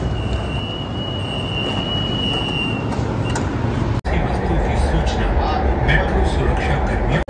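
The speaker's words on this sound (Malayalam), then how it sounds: "ട്രെയിൻ വരുന്നുണ്ട്." A metro train pulls into a New Delhi metro station with a loud, continuous rumble, and a thin wheel squeal rings over the first few seconds.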